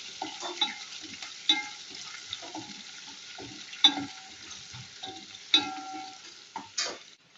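Food frying in a pan gives a faint, steady sizzle, with a few sharp spatula taps and scrapes spaced through it.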